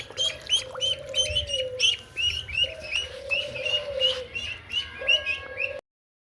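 Baby chicks peep and chirp on a farm in a steady stream of high, overlapping calls, with lower warbling tones and soft rustling underneath and no talk.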